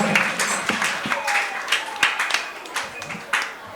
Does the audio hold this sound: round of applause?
yes